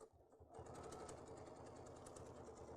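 A Bernina sewing machine free-motion quilting with an adjustable gliding foot and no stitch regulator runs with a steady, fast, rhythmic whir close by, starting after a brief quiet moment and continuing alone to the end.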